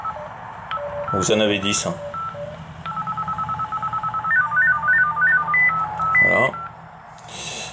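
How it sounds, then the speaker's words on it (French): Phone ringtone tones previewed one after another, short melodic beeping patterns and stepped electronic chimes, with someone talking over parts of them. "Là ici c'est pour les tonalités de sonnerie"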